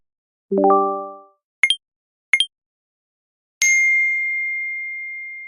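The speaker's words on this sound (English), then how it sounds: "A flood of notifications rushed in like a waterfall." A cluster of bright electronic notification tones: a low chord-like ding, two quick high blips, then a sharp high chime that rings out and slowly fades.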